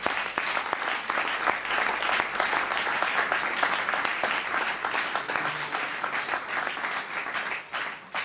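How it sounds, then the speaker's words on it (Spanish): A church congregation applauds during a Sunday service, a full, continuous roar of clapping hands that holds steady for several seconds before thinning near the end. "Denle un fuerte aplauso a ustedes."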